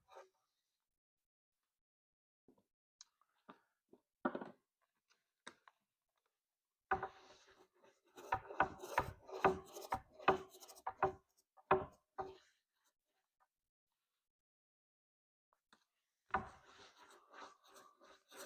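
A brush spreads epoxy across a boat deck in soft scattered scrapes and dabs, then a denser run of quick strokes and a final short burst, close and quiet with no talking.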